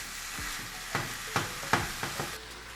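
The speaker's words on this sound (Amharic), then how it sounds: "የተፈጨ ስጋችንን እንጨምራለን አብረን እሱንም እንጠብሰዋለን" Minced meat fries in a pan, making a low steady sizzle broken by several sharp clicks and scrapes from a stirring spoon, heard close up and with no talking.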